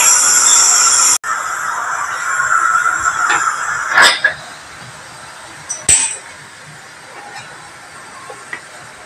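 Steam hisses steadily and loudly from a puttu steamer filled with rice powder and grated coconut, broken by a brief cutoff early on and a few faint clinks of the vessel.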